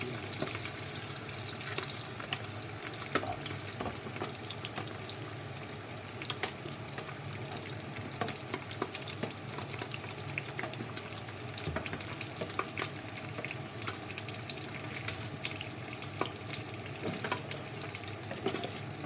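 Onions sautéing in a hot pan for kare-kare, a steady low sizzle and crackle with scattered sharp ticks and small clinks running continuously, with no talk over it.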